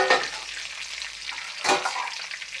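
Moringa drumstick pieces frying in a pan with already-fried potatoes and fish, giving a bright, crackling sizzle that swells in two louder bursts as ingredients hit the oil, then settles into a softer hiss.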